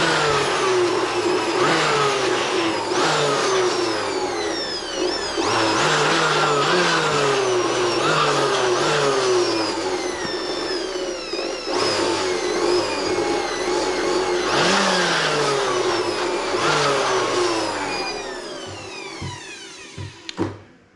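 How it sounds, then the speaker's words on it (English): An electric dust blower cleans the inside of a desktop computer system unit, its motor whining loudly and repeatedly ramping up and down in pitch as the trigger is pressed in short bursts, close and continuous before cutting off. "So we can get our blower again and blow off the remains in"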